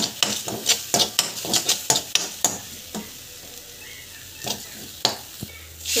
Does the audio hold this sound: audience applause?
no